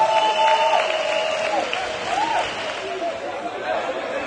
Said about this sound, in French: que je voudrais qu'on applaudisse ce soir